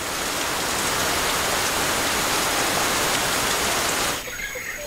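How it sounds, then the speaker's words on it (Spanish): Steady heavy rain falls in Nyungwe's montane cloud forest, a dense continuous hiss that eases slightly near the end, with no voices. "Aquí llueve casi cada día."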